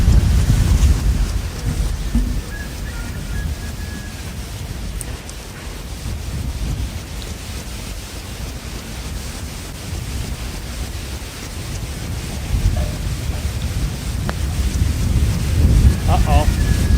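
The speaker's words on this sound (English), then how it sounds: "We're lucky today, it's just a gentle breeze." Steady breeze buffeting the microphone on an uphill golf green, a constant soft rumble with slight swells and no clear gusts.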